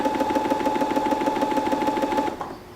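A Brother ST150HDH sewing machine running steadily with a fast, even mechanical hum and rapid rhythmic stitching pulse, fairly quiet and close, then stopping near the end and leaving a faint residual tone.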